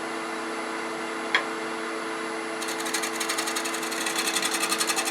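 Negative rake scraper cutting wood on a woodturning lathe under a steady motor hum, one brief click early on, then a rapid rhythmic chatter of fine cutting building up in the second half.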